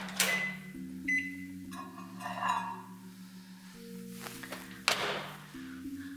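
A microwave oven melts butter in a mug, giving a low steady hum with clunks and a couple of taps, ending in a sharp click or beep.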